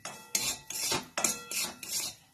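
Semolina (rava) pouring into hot ghee in a pan, with a run of five scraping, rasping strokes as it is stirred and spread, close and fairly quiet, no voices.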